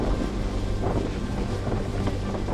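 Strong wind roars and buffets the microphone while driving straight into a December tornado, a loud, continuous rushing noise with no voices.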